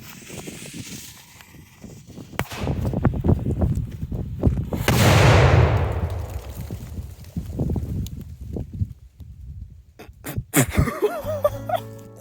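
A firework set off before New Year's bursts with a sharp crack and a rushing fizzing blast, preceded and followed by scattered pops, rustling and handling noise outdoors.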